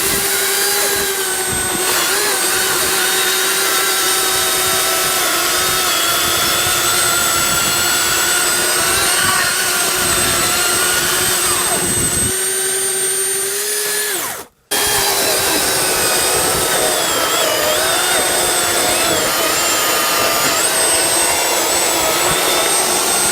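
A cordless Makita chainsaw runs flat out, a loud continuous high-pitched motor whine with dense harmonics, briefly cutting out for a split second before surging straight back to full speed.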